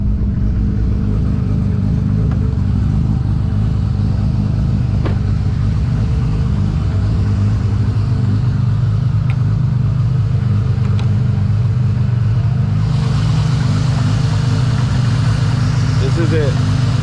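A 1000HP-plus Toyota MKIV Supra engine idles close by, a steady low rumble with a rough, lumpy pulse that holds evenly the whole time.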